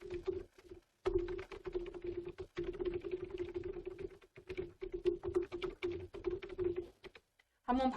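Typing on a computer keyboard in a quiet room during a word-processing class, a quick run of close, crisp key clicks with brief pauses, ending on a final burst of keystrokes.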